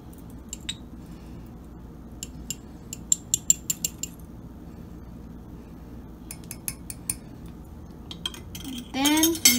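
A spoon scrapes and clinks against a mug while mixing dry mug cake powder with baking powder and cinnamon, with scattered light taps and clinks over a soft background, ending in a brief louder rustle.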